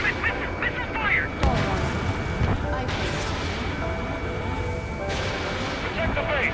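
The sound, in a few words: missile fire in video game Ace Combat 7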